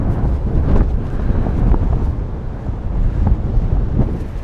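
Strong wind funnels through a narrow canyon gap in Iceland, roaring and buffeting the microphone in continuous, blustery gusts close up, with no talk.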